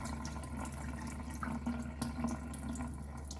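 Soaking water being drained off hominy corn in a kitchen, a steady low pouring and trickling of water with a few small splashes, fairly faint and close.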